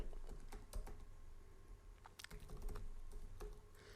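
Typing on a computer keyboard while entering administrator credentials to join a PC to a domain, a steady run of close clicky keystrokes with a few heavier bursts, alone with no talk.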